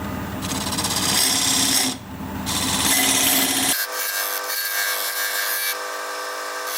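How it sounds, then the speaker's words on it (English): A diamond point tool squares up a tenon on a spinning black cherry live edge blank on a wood lathe, giving a loud, continuous rough scraping and chattering that breaks briefly, then settles into a thinner whir. "I'm going to use this diamond point tool to square up the sides of the tenon."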